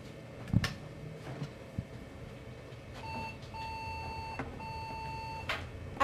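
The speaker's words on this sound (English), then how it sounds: "the computer gave us 3 beeps" Three steady electronic beeps from a computer at startup signalling an error, each a sustained tone of under a second, sounding one after another over low room hum with a few clicks before them.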